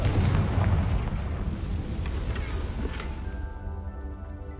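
A Confringo blasting spell goes off in a Harry Potter video game, a loud booming burst at the start that rolls into a long rumbling decay and fades out over several seconds.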